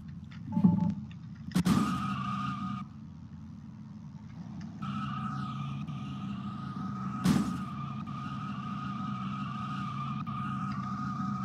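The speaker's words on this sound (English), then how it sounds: "Just do some burnouts in the Tesla." Tesla in the Vehicle Simulator video game spinning its tires in burnouts, drawn-out tire squeals over a steady engine whine, with a couple of sharp bursts, heard alone.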